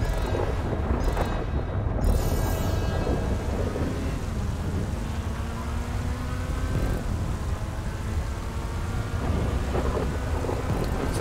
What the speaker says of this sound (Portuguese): Chove chuva. Chove sem parar.